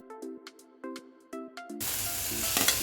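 Chopped vegetables and onion hit a hot pan for bao bun filling, and a sudden loud steady sizzle starts after a few sharp melodic tones, continuing to the end.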